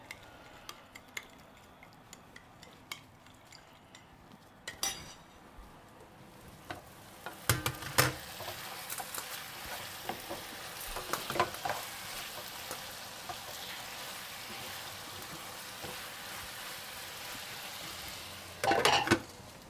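Food sizzles steadily in a frying pan while being stirred with black pepper and salt for a gyro-style sandwich, with scattered scraping and clinking of the utensil against the pan and a brief louder clatter near the end.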